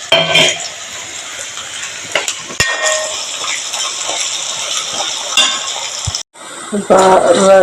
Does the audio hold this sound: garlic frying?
yes